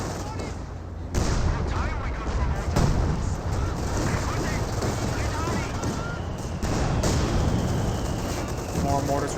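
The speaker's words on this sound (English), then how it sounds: "More mortars running on him" Mortar and artillery fire in the WWII strategy game Company of Heroes 2, a steady roar of battle with repeated booms and gunfire under a commentator's ongoing voice.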